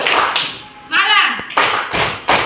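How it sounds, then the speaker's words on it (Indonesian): A class of children claps three times in a classroom call-and-response game, with crisp, loud claps separated by short gaps and a teacher's voice speaking before them. "Kalau ibu bilang malam, tepuk tangannya 3 kali"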